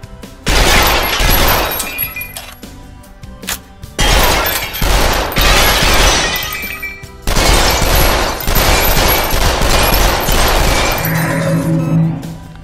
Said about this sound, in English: That is burst firing.